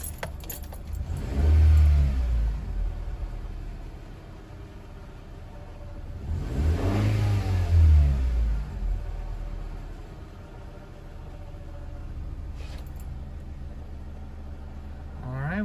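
A 7th gen Honda Civic engine revving twice on a test drive after a throttle position sensor fix, each rev rising and falling smoothly over a low steady idle rumble, heard from inside the car with faint jangling.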